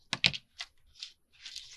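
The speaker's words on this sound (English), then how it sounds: "And then we're going to cut this." Scissors snip through string tied in a knot on a small fold-up journal clutch: two sharp close cuts in quick succession, then a few softer rustles and snips, near and fairly quiet with no talking.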